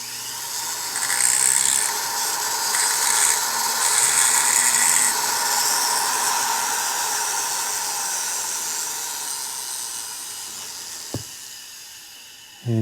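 A hand tool chamfers the cylinder port edges on a 1971 Suzuki TS185 two-stroke cylinder, giving a steady close scraping hiss with faint ratcheting texture that fades slightly toward the end, broken by one sharp click near the close.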